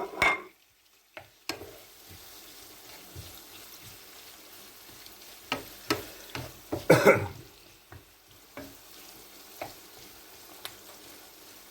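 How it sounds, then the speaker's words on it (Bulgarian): Chopped hot chili pepper frying in a pan, a low steady sizzle broken by scattered clicks and scrapes of stirring, with a louder clatter of utensil against pan midway; no talking. "след това сме нарязали едно люто чушле. И сипаме и него вътре. Запържваме така добре."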